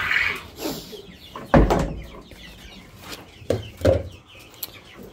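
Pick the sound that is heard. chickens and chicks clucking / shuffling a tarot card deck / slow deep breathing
chickens and chicks clucking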